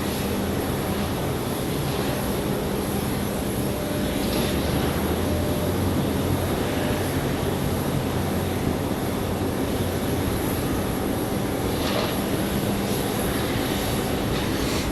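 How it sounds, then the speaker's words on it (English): An Airbus A321 airliner arriving from Charlotte comes in to land at Raleigh-Durham International, giving a steady, broad jet rumble and whine that stays fairly loud and constant throughout. "this A321 coming in from Charlotte, 24 minutes of flight time"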